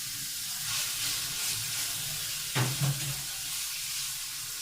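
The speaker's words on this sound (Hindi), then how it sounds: "कीमे को हम कलर चेंज होने तक बहुत अच्छी तरह से पकाएंगे।" Minced meat (keema) fries in hot cooking oil in a pot with a steady, close sizzle, broken once by a short clatter of stirring.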